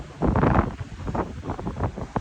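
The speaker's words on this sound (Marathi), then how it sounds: "वारं बिरं पण भरपूर आहे" Strong, gusty wind buffets the open deck of a cruise ship in a storm and heavy sea, with a loud, rough, fluttering roar that swells and eases, and no voices.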